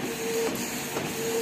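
A Canon IP2770 inkjet printer runs steadily through a print job on plain paper, giving a close, soft mechanical whir with faint repeating tones and a couple of light shuffling feed clicks, no voices.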